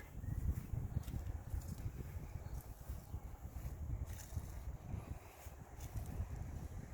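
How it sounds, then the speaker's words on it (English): Constant low rumbling buffet of wind hitting the microphone, steady and muffled throughout, with faint higher hiss above it. "Oh, there's the wind again."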